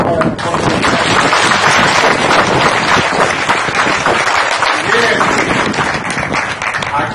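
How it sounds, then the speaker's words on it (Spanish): A large outdoor crowd applauds a state governor at a rural farm-aid event in Pénjamo, Mexico: dense, steady clapping continues loudly throughout with no pauses. "Un aplauso para el gobernador."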